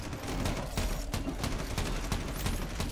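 Full-auto SMG gunfire in the Red Solstice 2 video game: a dense, steady stream of rapid shots and impacts crackling without pause for the whole stretch, loud and close.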